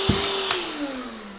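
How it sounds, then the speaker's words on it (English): A Black & Decker Dustbuster Flexi 12V handheld vacuum cleaner runs steadily with a whining motor tone that slowly drops in pitch, nearby and alone, with a couple of brief knocks early on. "You can't complain for the handheld vacuum cleaner."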